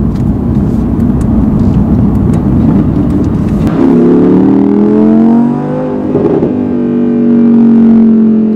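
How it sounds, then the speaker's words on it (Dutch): An Audi R8 V10 Plus with its exhaust valve open in dynamic mode idles roughly, then revs up with a rising, layered engine howl that settles and swells again, loud and close. "In de dynamic stand gaat er een klep open in de uitlaat en dan pas is de beleving echt compleet."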